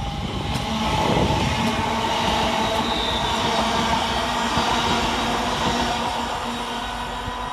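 A class 350 passenger electric multiple unit runs through a railway station, a loud, sustained rumble of wheels on rails with a rising roar and a drawn-out whine, with no speech.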